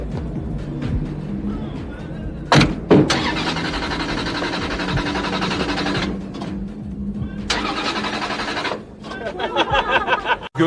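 A Ferrari's engine cranks and catches loud and close, then settles into a steady running note before revving as the car pulls away, with short breaks and a final burst of acceleration.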